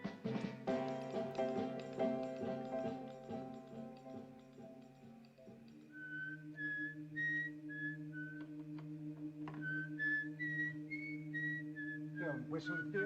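A person whistles a wandering, high melody in short rising and falling phrases over a sustained electronic drone with ticking, in a classic science-fiction drama scene.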